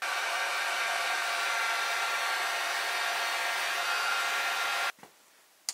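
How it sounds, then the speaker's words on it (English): A hair dryer blows on leather dye applied to a BMW steering wheel, a loud, steady whooshing hum that runs unbroken for about five seconds, then cuts off, leaving a couple of faint clicks. "Then we get a dryer."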